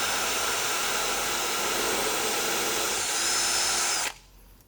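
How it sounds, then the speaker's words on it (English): A power drill runs steadily into a concrete countertop mold, a loud, close, continuous high whine lasting several seconds before cutting off abruptly, followed by a faint room hush. "And I'm going to drill again."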